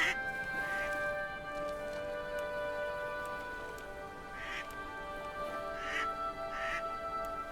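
Ducks quack in the video game Farewell North, a few short calls rising over a steady bed of ambient music and soft rain-like texture, moderately near.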